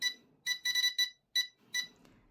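A series of EXT voltage alarm beeps from a T12D transmitter: short bursts and a longer pulsed run, high-pitched and clear, with pauses between groups.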